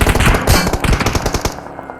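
Rapid automatic gunfire from PUBG Mobile, loud bursts of fast repeated shots for most of two seconds, then trailing off near the end with no talk over it.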